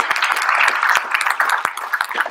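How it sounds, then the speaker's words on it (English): Applause from the audience closing a graduate-student Three Minute Thesis championship, a dense patter of many hands clapping at steady strength, fairly close, with faint voices mixed in. "Another huge round of applause."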